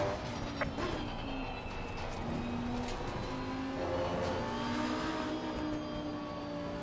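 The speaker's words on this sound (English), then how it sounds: "The faster car is approaching." Race car engine on Suzuka Circuit in an online racing game, a steady droning whine with shifting pitch as a faster car closes in and draws alongside, fairly loud and continuous throughout.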